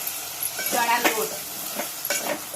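A pot of drumstick and potato curry thickened with gram flour being stirred as it cooks, with soft sizzling and a few spoon scrapes against the pan, fairly close, no talking.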